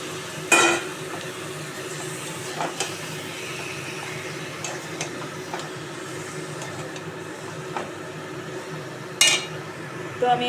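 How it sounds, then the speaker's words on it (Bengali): Chicken pieces being fried and stirred in a spice masala in a pan, a steady sizzle with occasional sharp scrapes and clinks of the spoon against the pan. "তো আমি এবার মাংসটা কষিয়ে নিই"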